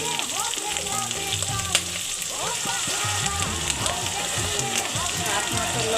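Spices with salt fry in a pan for chicken, giving a loud continuous sizzle with stirring scrapes and background clatter while a voice talks over it.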